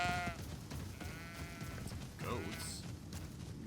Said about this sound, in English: Goats. I've never seen any of these goats.